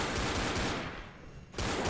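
Rapid bursts of pistol gunfire in Left 4 Dead, loud and continuous at first, dropping off briefly in the middle before another sharp volley at the end.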